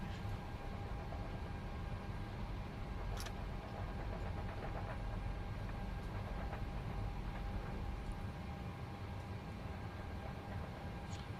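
Engines of a PMDG 737-600 airliner spool up in Microsoft Flight Simulator 2024, a steady low rumble and hum with a faint whine, continuous and fairly quiet, with a few light clicks.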